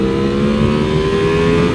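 A Ducati Monster 1200 motorcycle, a custom build, pulls hard on a back road, its engine holding a loud, steady, close roar with a slowly climbing pitch under acceleration.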